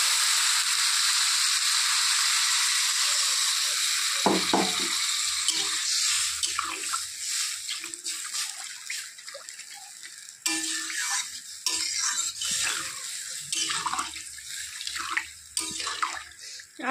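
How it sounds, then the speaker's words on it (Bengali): Liquid gravy poured into spice paste sizzling in a pan while a tilapia curry cooks, a loud steady hiss and rushing spatter that settles into intermittent bubbling and clatter. "এখন দিয়ে দিচ্ছি ঝোল।"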